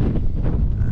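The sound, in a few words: wind on Kinder Scout moorland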